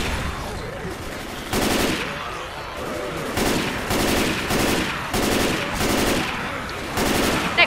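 Automatic weapons fire in the co-op zombie shooter Left 4 Dead 2, with repeated loud bursts of rapid gunshots separated by brief pauses and a low ambient background between volleys.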